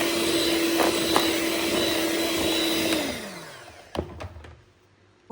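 An electric beater whirs steadily through cake batter with eggs, a high motor whine that winds down and stops partway, followed by a couple of clunks of the beater against the bowl.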